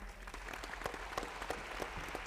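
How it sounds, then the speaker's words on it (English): Audience applause for a panel of guests answering questions at a public forum on a school student assignment proposal, a steady, fairly quiet patter of many hands clapping with no voices over it. "if we could give them a round of applause for being here"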